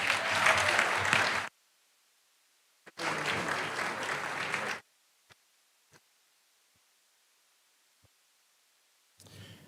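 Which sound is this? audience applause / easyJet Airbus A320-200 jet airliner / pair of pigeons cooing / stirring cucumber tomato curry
audience applause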